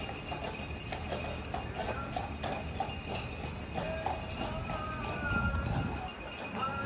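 A horse pulls a wagon through a busy outdoor area in Canada, its hooves clip-clopping in a steady rhythm amid background crowd noise and faint voices.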